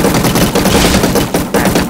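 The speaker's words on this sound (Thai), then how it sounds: "ปืนต่อไปครับ M4A1 ครับปืนนี้น่าจะแรงมา" Loud, rapid automatic fire from an M4A1 rifle in a Minecraft gun plugin, a close, continuous burst of sharp shots with a few brief gaps.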